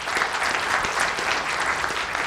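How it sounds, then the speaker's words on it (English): Audience applause at a college common-read event honoring the community college president and another guest; sustained, dense clapping from a sizable crowd, even and continuous, with no talking over it. "How about a big round of applause for both of them?"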